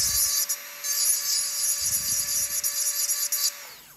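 A small powered dental tool lightly grinding teeth to dull their gloss: a steady high-pitched whine with faint intermittent grinding contact, winding down at the end.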